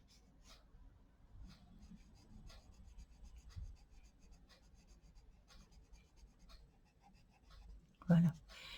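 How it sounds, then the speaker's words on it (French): An eraser rubs across a pencil drawing of shrubs, with faint, scratchy strokes in short bursts under a quiet voice, ending with a brief louder knock. "Voilà, on récupère à la gomme."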